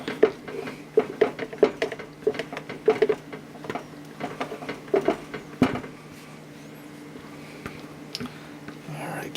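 Spatula scraping homemade chocolate ice cream mix from a bowl, a run of short, close scrapes and taps in an irregular rhythm over the first six seconds, then quieter handling.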